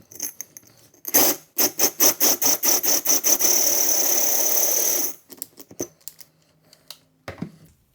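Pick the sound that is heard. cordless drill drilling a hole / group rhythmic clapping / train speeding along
cordless drill drilling a hole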